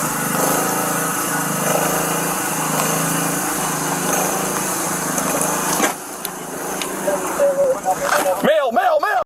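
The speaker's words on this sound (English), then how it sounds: "You can hear that lawnmower getting loud." A loud, steady engine drone like a lawn mower runs throughout, with a voice faintly underneath and a rising whine near the end.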